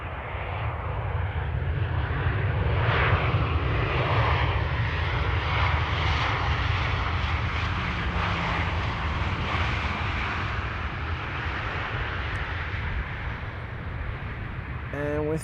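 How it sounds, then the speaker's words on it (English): A KLM airliner inbound from Birmingham roars overhead on arrival at Amsterdam Schiphol, a loud sustained engine rush that swells to a peak and then slowly recedes. "KLM flight 1042 arriving from Birmingham."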